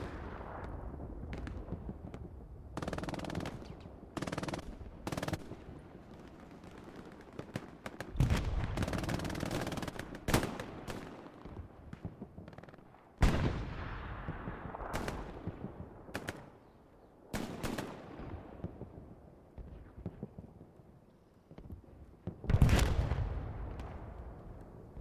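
Rapid bursts of gunfire and heavy explosions from a competitive Hell Let Loose World War II shooter match in Carentan town center, with repeated loud volleys and sharp single shots spread across the scene, some near and some more distant.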